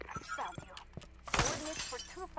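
Glass shatters in a bright, crunchy burst in a first-person shooter, close and loud, amid game sounds and a talking voice.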